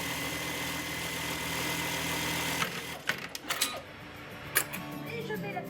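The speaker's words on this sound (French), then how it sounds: "le petit village de Valcanville est rythmé par le son des machines à coudre" Sewing and knitting machines run steadily in a knitwear workshop in a Normandy village, a continuous mechanical hum that gives way to scattered clicks and clatters.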